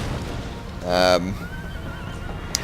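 A horse of a Bavarian cavalry regiment neighs in a Total War battle, one loud whinny about a second long over a steady background of battle ambience.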